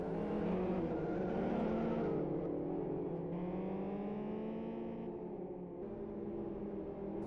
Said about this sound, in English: The safety car is actually getting quite some exuberant driving going on there.